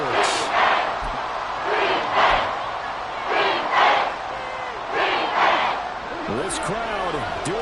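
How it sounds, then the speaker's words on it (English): Stadium crowd noise from the Madden football video game, a steady roar with swelling cheers near the goal line in the closing minutes, running beneath a commentator's voice throughout. "This crowd doing all they can."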